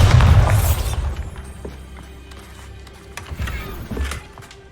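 The Bombarda explosion spell goes off in Hogwarts Legacy with a heavy, close boom in the first second, then a rumbling decay punctuated by a few scattered thuds and crackles.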